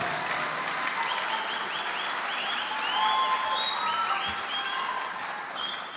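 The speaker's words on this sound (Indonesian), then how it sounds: "Sekali lagi tepuk tangan untuk para taruna kita." Sustained audience applause at a graduation ceremony for the first class of Akademi Demokrat cadets, a dense even roar of many hands with some whistles and cheers on top, filling the hall without talk.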